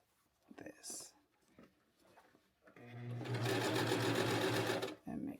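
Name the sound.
sewing machine stitching a waistband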